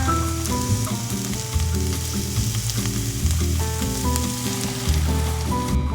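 A generous amount of chopped spinach cooks in a hot pan with a steady, moderate sizzle, while a melodic background tune plays throughout.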